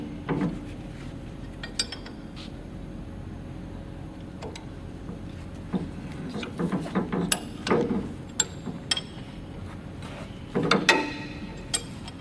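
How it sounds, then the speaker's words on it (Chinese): Bolts holding a cam plate loosened with a wrench: scattered metallic clicks and clanks of tool on metal, with a few louder knocks and rattles, close and intermittent over a quiet background. "稍许拧松固定凸轮片的安装螺栓"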